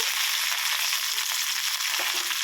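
Fenugreek, mustard seeds, curry leaves and asafoetida crackle and sizzle in hot oil, a close, steady frying hiss with faint popping throughout, no voices.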